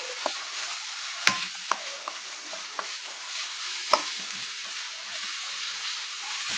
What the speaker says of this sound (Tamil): இந்த வெங்காயம் கொஞ்சம் லேசாக வதங்கட்டுக்கு